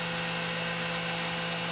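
A Fastcap vacuum clamp system runs during edge banding in a woodworking shop, giving off a constant, fairly loud motor whine with a steady tone and no variation.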